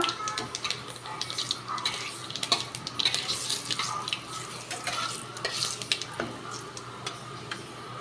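Bay leaf and panch phoron crackle in hot oil in a home kitchen, a steady close sizzle with scattered pops and stirring scrapes running throughout, no voices.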